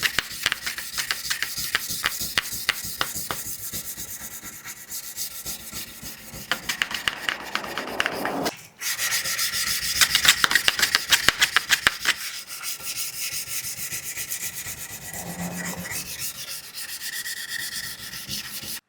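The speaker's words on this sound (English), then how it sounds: "So I picked up some of the silicon carbide sandpaper, and it seemed to cut and abrade a little bit better. But it still took forever to hand sand this." Silicon carbide sandpaper rubs back and forth by hand over a steel knife blade, a steady rhythmic rasping scrape, loud and close, with a brief pause midway before the strokes resume.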